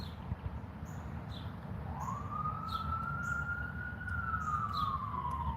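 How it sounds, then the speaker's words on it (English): A distant siren wails, rising and holding a long tone over steady background traffic noise, with faint bird chirps scattered throughout. "Oh, more sirens."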